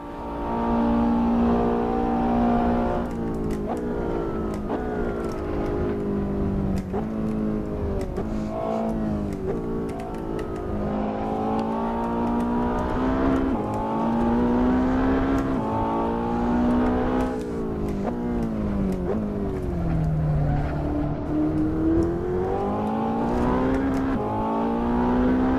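Road car engine revving hard while lapping Le Mans in the racing game Assetto Corsa, a continuous loud drone with rising and falling pitch through gear changes and acceleration.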